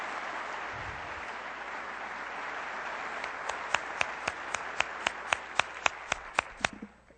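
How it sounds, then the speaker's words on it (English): An audience applauds a professor of the year, a broad crowd of clapping that holds steady, then gives way to one person's distinct, evenly spaced claps near the end before fading out. "give him a round of applause"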